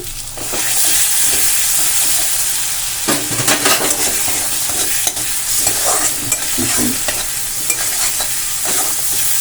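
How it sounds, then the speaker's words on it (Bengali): Chopped tomatoes hit hot oil with ginger-garlic paste and are stirred in a pan for a pea paneer curry: loud continuous sizzling with repeated spatula scrapes and clatter, close up and without speech. "টমেটো কুচি দিয়ে একটু ভালো করে নাড়াচাড়া করে মিশিয়ে নেব।"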